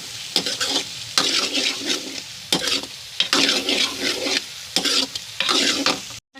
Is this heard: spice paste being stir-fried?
yes